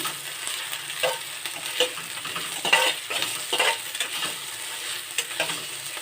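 Liver fry with ginger and garlic paste is stirred in a pan, giving a steady close sizzle with repeated scraping and clinking strokes of a utensil against the pan.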